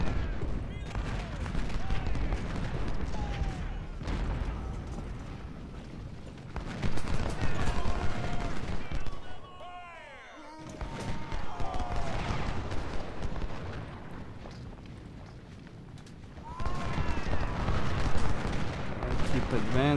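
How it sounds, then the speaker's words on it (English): Artillery fire booms across a Shiloh battlefield in Ultimate General: Civil War, with repeated dense volleys and rumbling shots under steady battle noise and some talk. "They've got more artillery than expected, to be honest."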